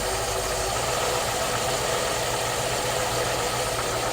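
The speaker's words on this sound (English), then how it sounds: "I can over advance. and now she's running like crap," A car engine runs rough with over-advanced ignition timing, misfiring through a loud, steady, close drone with no pauses.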